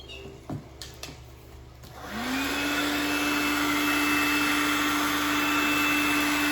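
Cordless handheld wet/dry vacuum cleaner fitted with a brush nozzle switches on after a few light handling clicks, its motor whine rising to a steady, close, loud hum with a sustained tone, running alone.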